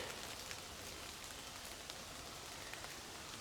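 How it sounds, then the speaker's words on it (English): Steady rain hisses and patters evenly throughout, a dense, soft wash with scattered drops and no voices. "I don't know if you can hear that,"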